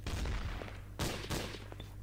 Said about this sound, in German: Ich baller, hab geschossen.